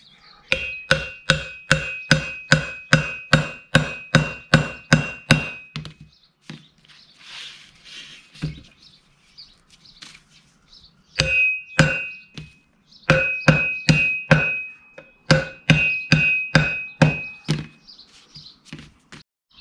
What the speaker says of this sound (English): I'm going to start this effort with a soft-faced hammer.